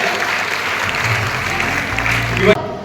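An audience applauds at a district administration's 111th birth anniversary commemoration for former chief minister Devaraj Urs, dense sustained clapping with a low hum beneath, cutting off abruptly near the end.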